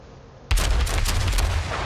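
Bombs dropped from aircraft blast in a combat video game, a sudden loud burst of explosive noise kicking in partway through and rumbling on with continuous booming and crackle.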